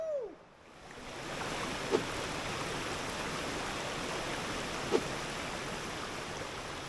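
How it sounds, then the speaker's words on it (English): Sycamore Falls, a waterfall on the Fiery Gizzard Trail in Tennessee, pours with a steady, broad rushing roar heard close by, with no talk over it. "All right, we made it over to Sycamore Falls."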